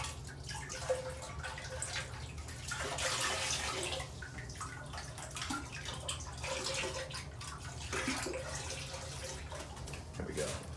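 Vinegar poured generously into a toilet bowl, a continuous splashing, gurgling pour with drips, close and fairly loud, while a person talks over it.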